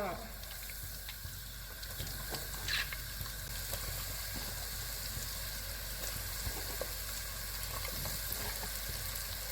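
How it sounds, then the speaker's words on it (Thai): Steady, faint sizzle and crackle of fish frying in hot oil, a constant hissing bed with a few small pops and light clinks throughout. "ปลาทอดเริ่มจะสุกแล้วนะคะเดี๋ยวก็ตักออกแล้วเราก็ไปทอด"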